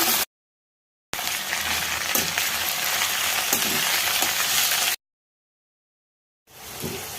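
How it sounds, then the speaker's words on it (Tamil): Mint chutney ingredients sautéing over medium flame in the same hot oil used to fry asafoetida, a steady close sizzle and crackle running for several seconds between silent gaps. "அதே எண்ணெயில் சேர்த்து வதக்கலாம்."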